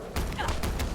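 Rapid gunfire in the video game Fallout 4, a short dense volley of shots close and loud, with a voice briefly mixed in.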